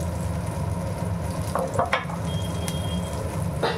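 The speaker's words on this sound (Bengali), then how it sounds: "এটা ভেজে নিই। আর অল্প ঘি দিয়ে দিচ্ছি, আলুতে টেনে নিয়েছে।" Flattened rice and potatoes fry in ghee in a pan, a continuous close sizzle broken by a few short scraping stirs near the middle and end, with no talking.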